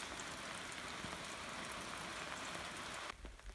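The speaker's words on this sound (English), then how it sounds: "this rain is supposed to be lasting till next Wednesday" Steady rain patters down on a farm in central Portugal as a dense, even hiss, close by, cutting to a quieter rustle near the end.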